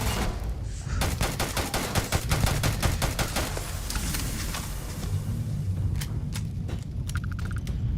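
Rapid bursts of gunfire from a Starfield firefight, a steady fusillade of sharp shots with brief gaps and a few louder cracks near the end.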